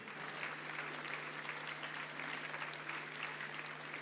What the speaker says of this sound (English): We keep clapping until they're seated.